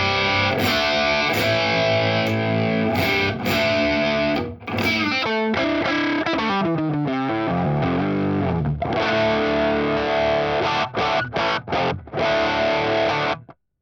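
Distorted electric guitar plays an alt rock rhythm part through a LAVA STUDIO desktop amp, a loud dense wall of chords that breaks into choppy stops and muted stabs near the end, no talking.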